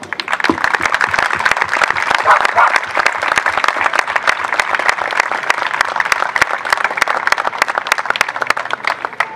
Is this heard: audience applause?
yes